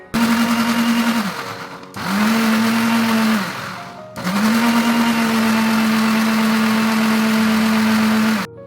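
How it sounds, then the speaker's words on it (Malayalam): A mixer grinder turns roasted coconut and water into paste with a close, loud, steady motor whine in three runs, each cut off briefly before restarting, and no voices. "ആവശ്യത്തിനുള്ള വെള്ളമൊക്കെ ഒഴിച്ച് അതും കൂടെ അങ്ങോട്ട് അരച്ച് പേസ്റ്റ് ആക്കിയിട്ട് അങ്ങോട്ട് എടുക്കാം"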